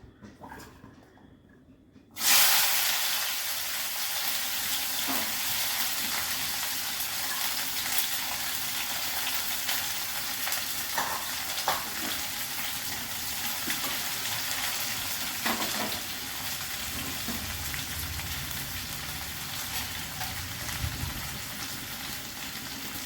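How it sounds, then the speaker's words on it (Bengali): Bitter gourd pieces hit hot mustard oil with a sudden loud sizzle after a quiet start, then a steady, close, dense frying hiss continues with occasional stirring clicks. "তেল গরম হয়ে গেছে আমি এবার উচ্ছেগুলো দিয়ে দেবো"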